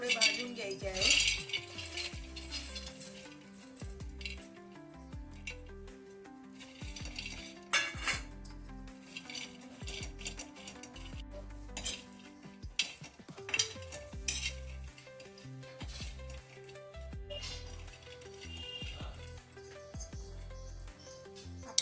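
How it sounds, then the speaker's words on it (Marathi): Mixed lentil vadas, spiced with turmeric, asafoetida, garlic-ginger paste and coriander, roasting in a pan as a utensil turns them, giving soft irregular metallic scrapes and clinks throughout with a faint sizzle and no talking. "आपल्याला हे वडे थोडे भाजून घ्यायचे आहे."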